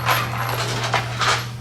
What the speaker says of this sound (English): So take the clutch cover bolts and dock them in there.